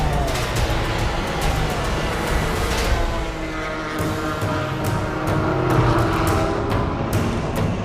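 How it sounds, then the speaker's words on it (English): A Peugeot race car at a 24-hour race, apparently the number 8 car, roars past amid a dense, continuous wash of engine and crowd-free track noise, loud and sustained throughout. "right on Benoit Trallier's tail now is Stéphane Sarrazin in the number 8 car"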